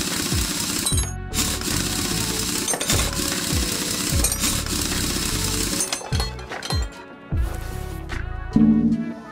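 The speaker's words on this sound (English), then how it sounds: "let's get these wheels off" Rapid mechanical rattling bursts of a pneumatic impact wrench spinning off car wheel nuts in Car Mechanic Simulator, loud and repeated in short clusters with brief pauses, plus clunks of parts.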